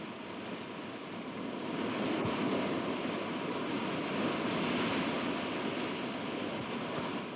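A continuous broad wash of surf at Mamallapuram, India, the sea rumbling and hissing steadily without pause, fairly loud and uniform throughout.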